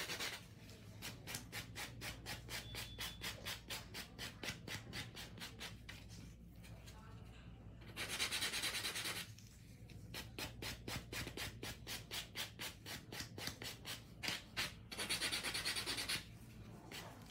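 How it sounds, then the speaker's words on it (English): Rapid rhythmic rubbing of a buffer across acrylic nails on a client's hands, quick back-and-forth strokes in steady bursts with short pauses, close and moderately loud. "I'm gonna buff the hands"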